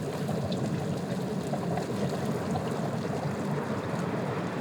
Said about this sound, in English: you could hear the gas coming through the ground, but here, because there's water,